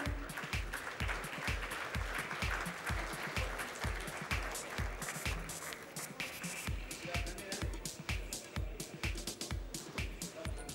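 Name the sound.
audience applause for dignitaries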